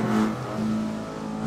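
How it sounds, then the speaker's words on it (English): Engine of a heavily tuned Honda Civic Type R in Assetto Corsa, a steady mid-pitched drone with a brief dip, fairly quiet and heard alone. "We got a Honda Civic Type R."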